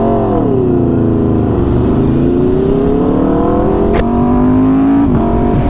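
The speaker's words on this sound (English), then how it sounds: "the shorty exhausts, they give your bike a cam sound, like a V8 Mustang cam sound." Aprilia RSV4 superbike with shorty exhausts and a Gabro race map, its engine idling and rising in pitch under a slow rev, loud and close with a lumpy, cam-like burble and a sharp crack near the end.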